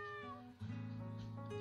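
A cat in the video game Nightmare of The Snow gives a short, clear meow over quiet droning background music.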